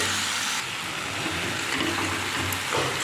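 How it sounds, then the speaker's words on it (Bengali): Water poured from a rinsed mixer jar into spice paste frying in a pan makes a steady rushing splash mixed with hissing, close and continuous for a few seconds. "মিক্সি ধোয়া বাটিতে একটু জল দিয়ে দিলাম"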